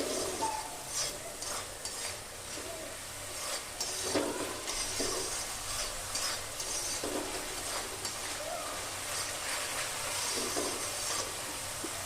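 Spice masala frying in oil for a Bengali tangra fish curry with coriander paste, a continuous hissing sizzle broken by repeated scraping strokes of a spatula stirring the pan, close and steady.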